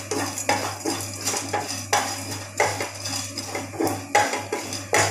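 Spices dry-roasting in a pan for a homemade anti-cough powder, a spoon scraping and clinking against the metal in steady repeated strokes, close and distinct over a low hum.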